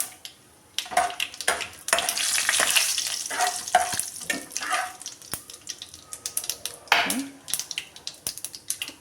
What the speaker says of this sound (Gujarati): દાળ થોડીક બ્રાઉન રંગની થાય ત્યાં સુધી એને હલાવશું એક સૂકું લાલ મરચું નાખશું